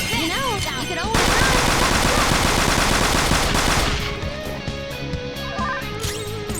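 Rapid automatic gunfire bursts from a Persona 5 battle against Shadow Okumura, loud and dense with layered game music and effects, fading into quieter battle sounds toward the end.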